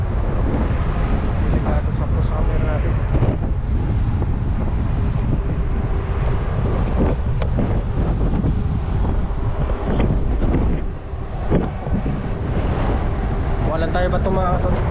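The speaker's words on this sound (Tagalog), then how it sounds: "Delikado po sa camera yung malakas na hangin." Strong wind buffets the microphone with continuous low rumbling and roaring gusts, loud and unbroken throughout.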